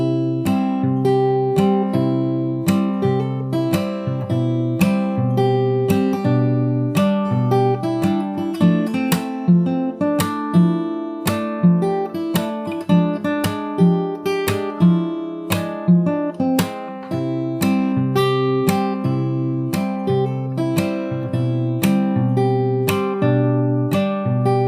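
A guitar runs twice through a looping section of a song, evenly picked notes and chord strikes in a steady unhurried pulse, close-miked and uninterrupted by speech.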